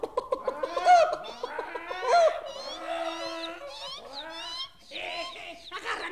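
Chickens cluck and squawk in a henhouse as a storybook sound effect, with a busy run of overlapping, rising and falling calls that carries on steadily throughout.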